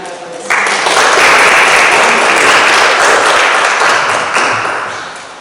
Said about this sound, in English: so give round of applause.